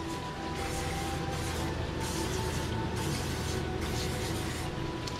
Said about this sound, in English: Now for these, they're gonna get some spray of some non-stick oil.